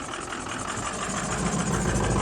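Diesel engine of a 2003 Ford F450 box truck idling nearby, a steady loud rumble with a faint regular knock running through it, alone without voices.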